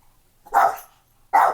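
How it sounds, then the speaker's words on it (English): A dog barks twice, close and loud, with a short silent gap between the two barks. "wait for the dog to start barking"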